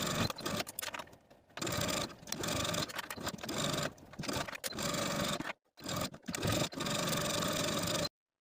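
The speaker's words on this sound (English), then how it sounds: "We're going to sew from one end all the way across to the other end, edge stitching close to this inner fold all the way across." An electric sewing machine runs steadily while edge stitching a silk dress close to an inner fold, a continuous mechanical whir broken by a few short pauses as the seam crosses from end to end.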